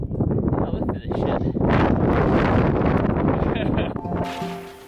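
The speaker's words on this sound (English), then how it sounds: "the wind really had picked up by now" Strong gusting wind buffeting the microphone on a Scottish mountain peak in the Fisherfield range, roaring loudly and steadily for several seconds before easing, with a voice briefly heard.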